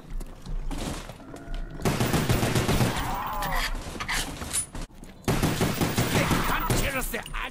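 Sustained gunfire from Call of Duty Zombies fills the clip, dense and loud, mixed with game noise in two long stretches broken by a brief lull.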